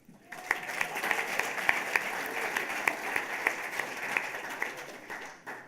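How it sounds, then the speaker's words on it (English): An awards-ceremony audience claps steadily for several seconds at a journalism prize event, with distinct individual claps standing out over a moderate, even wash of applause that fades at the close. "do clap in between"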